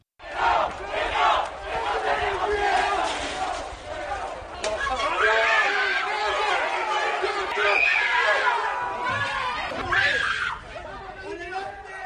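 Protest crowd in Madrid shouting and clamoring as riot police move on protesters, a dense, continuous mass of raised voices and scattered yells filling the whole span, loud and close.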